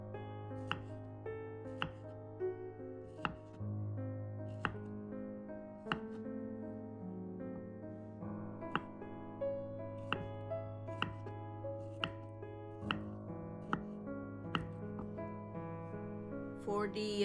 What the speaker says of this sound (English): I defrost the banana before I slice it into pieces.